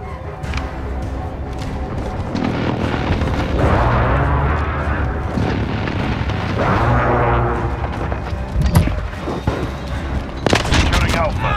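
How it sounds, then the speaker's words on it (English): Precision airstrike explosions in the Modern Warfare Domination match at Hackney Yard, a chain of deep rumbling booms and blasts under dense battle noise and gunfire, with voices calling out over it. "Enemy precision airstrike inbound."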